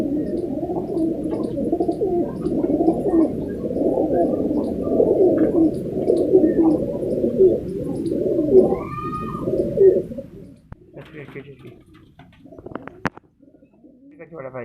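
Pigeons at a pigeon farm coo in low, throaty, rolling calls that overlap loudly and close for about ten seconds, then fade to sparse rustles and faint sounds.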